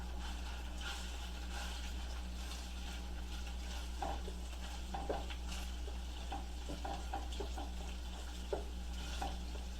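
Sausages fry and are stirred in a pan, with a steady low sizzle and occasional soft scraping and patter from the utensil, close and fairly quiet, with no talk.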